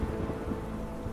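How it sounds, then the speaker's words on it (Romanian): Rain and thunder in the fantasy adventure game Timemelters, a steady, dense wash of rainfall with low rumbling underneath, heard alone throughout the short stretch. "uite, mai vine și ploaia acum"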